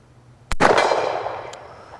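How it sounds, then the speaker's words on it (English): A single loud, close gunshot from an S&W 629 .44 Magnum revolver at a shooting range, a sharp crack followed by a long, ringing decay. "I should shoot 44 Magnum loads."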